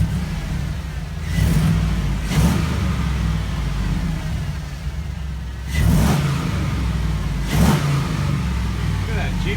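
A Jeep Wrangler with a swapped-in LS engine idles loudly up close, with several quick throttle blips rising above the steady rumble; a voice talks over it at times.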